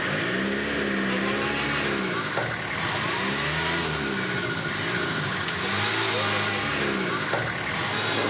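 A car with a flooded engine revs repeatedly during a stuck river-raft crossing in Madagascar, its loud, rising and falling engine note sweeping up and down several times over a steady rumble.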